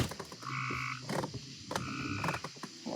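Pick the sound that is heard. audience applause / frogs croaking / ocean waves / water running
frogs croaking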